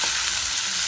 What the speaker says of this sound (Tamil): பச்சை வாசம் போகிற வரைக்கும் நல்லா வதக்கிக்கலாம்